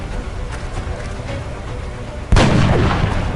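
A single loud sniper rifle shot in the video game XCOM: Enemy Within, a sudden booming crack over steady game ambience, followed by a sustained rumbling tail.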